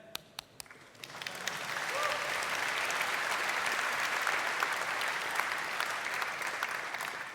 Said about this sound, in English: Yeah, that was a clapping moment,